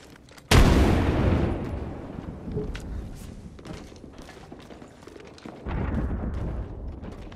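A frag grenade detonates in the video game Apex Legends with a sudden loud, close blast that rumbles away over several seconds, followed by a second, weaker burst of noise near the end.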